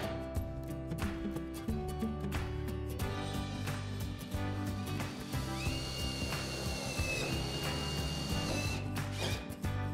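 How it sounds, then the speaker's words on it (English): A power drill driving screws through a roller door curtain into the drum during a garage roller door opener installation, heard as steady close mechanical whirring and workshop noise with short tool bursts throughout, no talking. "Use appropriate screws to drill through the curtain and into the drum."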